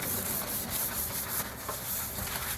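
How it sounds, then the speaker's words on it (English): Very fine sandpaper lightly scuffing a slick painted surface, a steady close rasping rub that continues without pause and with no talking. "I'm just gonna lightly go over it with the very fine sandpaper just to rough it up a little bit, since this surface is so slick"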